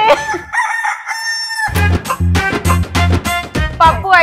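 A rooster crows loudly and close, with a long harmonic cock-a-doodle-doo followed by a rapid run of shorter, strongly pulsed crowing notes, and no voices.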